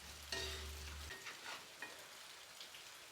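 Tuna frying in hot oil, a steady close sizzle and crackle throughout, with a low hum briefly at the start.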